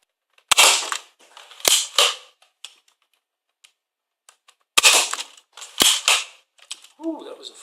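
A modified Nerf Maverick blaster fires foam darts over a chronograph in two pairs of sharp snapping shots with short mechanical clicks and rattles between them. A brief voice comes in at the end.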